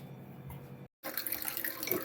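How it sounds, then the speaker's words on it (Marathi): Water runs from a kitchen tap into a vessel, a steady close splashing rush broken by a brief silent gap before it flows again, brighter and louder. "पहिले पाणी भरलं"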